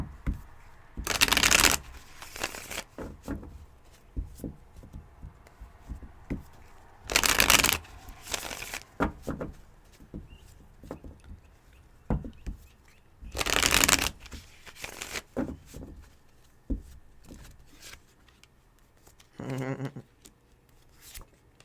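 Tarot cards being shuffled in several loud, crisp riffling bursts spread across the stretch, with quieter handling and soft rustling between them and no talking.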